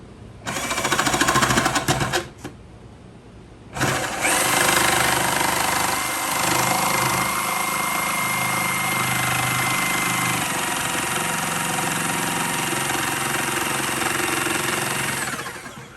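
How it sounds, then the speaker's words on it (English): A jigsaw buzzes loudly while cutting a wooden guitar brace, with a short burst, a pause, then a long steady cutting run that stops near the end. "maybe I can do that with a jigsaw"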